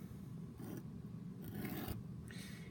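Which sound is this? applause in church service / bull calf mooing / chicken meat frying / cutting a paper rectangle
cutting a paper rectangle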